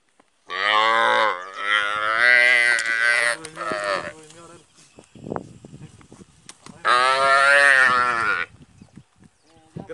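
A calf moos twice in a drought-stricken Brazilian wetland, each call long, loud and close, with a quieter stretch of faint rustling and movement between them.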